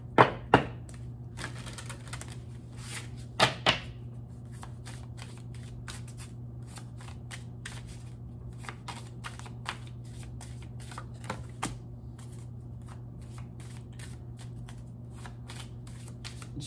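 A deck of tarot cards being shuffled, a few sharp riffles and taps near the start and middle, then faint intermittent card clicks over a steady low hum.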